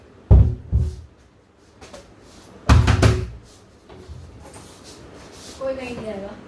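A door is banged several times in heavy, booming knocks, a pair early on and a louder pair at about three seconds, with softer rattles after and a raised voice near the end.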